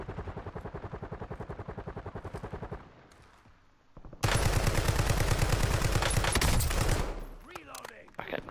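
Automatic weapon fire in the video game Warzone, with a long rapid burst of evenly spaced shots, a short lull, then a louder second sustained burst, close and punchy throughout.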